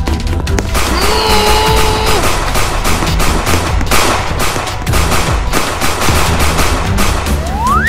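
Rapid bursts of gunfire in the Roblox game Brookhaven, loud and dense over several seconds, mixed with other game sound effects and rising tones.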